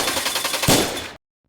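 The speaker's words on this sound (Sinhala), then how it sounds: "මේ වාහනේ පණ ගන්නන සද්දේ." A cartoon vehicle engine starts with a loud, rapid mechanical rattle in quick, gun-like bursts that swell and then cut off abruptly to silence.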